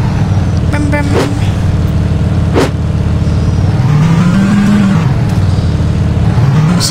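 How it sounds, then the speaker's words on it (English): Car engine in the Roblox video game, a loud steady motor drone that rises and falls in pitch as it revs, with a couple of sharp clicks early on and no talk. "Oh, cool, a car."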